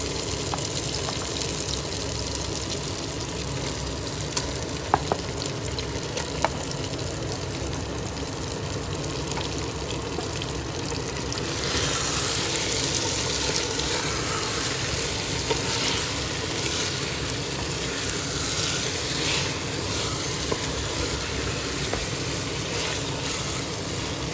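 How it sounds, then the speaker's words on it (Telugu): Marinated chicken frying in a clay pot for matka dum biryani, a steady close sizzle with stirring scrapes and a few clinks, growing brighter and louder partway through, no talking. "ఇప్పుడు దీనిలో ముందుగా మ్యారినేట్ చేసుకున్న చికెన్ వేసుకుందాం"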